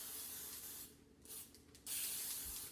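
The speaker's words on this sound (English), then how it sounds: "So I like to use pan baking spray so that the cookies don't stick to the pan." Cooking spray hisses onto a baking pan in two soft bursts, the second longer and steadier, close but quiet with no voices.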